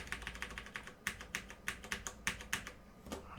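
Quick keystrokes on a computer keyboard, a steady run of soft, close clicks in an irregular rhythm with a few brief pauses, faint and alone.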